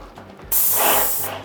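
A Wagner airless paint sprayer fires a test fan pattern onto cardboard, starting abruptly as a loud, steady, broadband hiss that holds for about a second before easing off.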